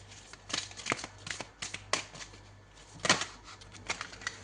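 Oracle cards being shuffled by hand, a run of soft papery riffles and flicks in irregular bursts, close and fairly quiet, with no talking over them.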